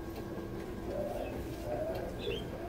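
Caged birds in a pet store coo and chirp softly, fairly faint against the low hum of the store.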